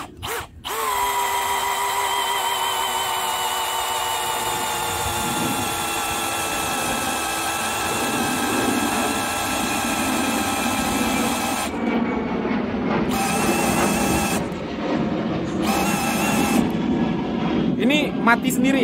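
A Bosch GSB185-LI cordless brushless impact drill runs steadily at its lowest speed setting, a loud, continuous motor whine lasting most of the stretch before cutting out in short gaps near the end.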